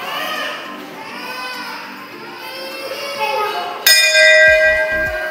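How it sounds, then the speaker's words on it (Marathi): A temple bell at a Jaichaa Dev shrine in Buldhana strikes once loudly and rings on with a bright, sustained tone, following several seconds of murmuring voices and chanting in the crowded hall. "घंटी"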